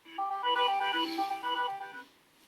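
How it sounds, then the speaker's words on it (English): A phone alarm chimes for about two seconds, a bright electronic melody of quick repeating tones played fairly softly in a quiet room before stopping. "That's my alarm that I'm supposed to go get my children"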